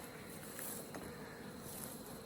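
Honey bees hum around hive colonies in a bee yard, a steady, soft, continuous drone with no break and no voices.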